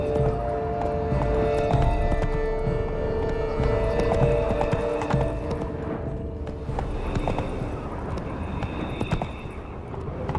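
Steady clip-clop of a horse galloping at a brisk rhythm in The Witcher 3: Blood and Wine, continuous and fairly loud, with a low hum of game ambience behind it.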